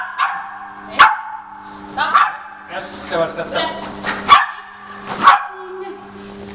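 A dog barks in sharp single bursts, roughly once a second, during a dog training session, close to the microphone, while people talk between and over the barks.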